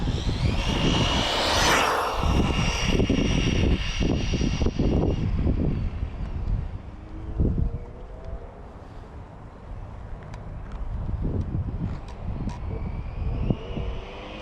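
A Losi 22S RC short course truck on a 3S LiPo battery runs at full throttle, its electric motor giving a loud, high-pitched whine that rises and fades as it passes, with no voices.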